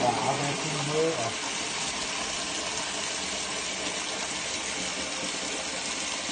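Water gushes steadily through a drain being cleared of a fatberg of wet wipes and cooking grease, a continuous rushing flow with a brief louder burst and voices at the start.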